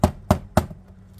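Three quick light hammer taps drive a wooden axle into a wooden wheel, evenly spaced sharp knocks close by, then quiet.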